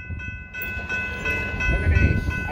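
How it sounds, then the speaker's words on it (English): Pasco train rolling past close by, a loud continuous rumble of heavy railcars with steady high-pitched wheel squeal and rising clatter as it moves along the track. "Yeah, that's the Pasco train."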